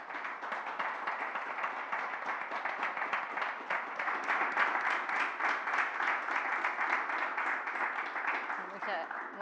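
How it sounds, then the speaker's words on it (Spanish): An audience applauds a book author at a book presentation event, a steady, dense wash of clapping with rapid regular patter, fairly faint and distant, holding evenly for several seconds. "Pido para él un aplauso."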